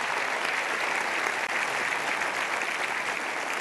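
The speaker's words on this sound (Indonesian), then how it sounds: "Berikan tepuk tangan sekali lagi untuk Jamaican Cafe." An audience at a Mario Teguh seminar applauds a Jamaican Cafe act: dense, loud, continuous clapping that stays level for several seconds, with no speech over it.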